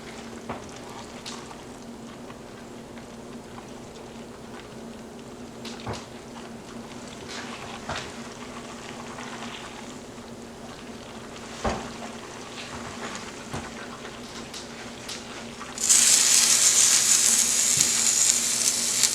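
Butter browns in a frying pan, a steady bright sizzle with scattered pops and faint stirring taps, turning suddenly louder and hissier near the end; no one speaks.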